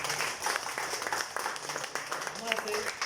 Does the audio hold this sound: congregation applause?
yes